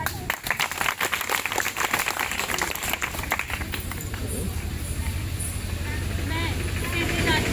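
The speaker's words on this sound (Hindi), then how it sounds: "जोरदार तालियां" An audience at a sanitation-message event gives a burst of dense, loud clapping that thins and fades after a few seconds into a murmur of background noise.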